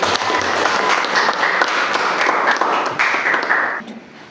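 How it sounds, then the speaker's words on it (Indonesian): A classroom audience of teachers and students applauds a group of students after their presentation, steady dense clapping that holds for several seconds before trailing off near the end. "Berikan aplaus untuk kelompok 1."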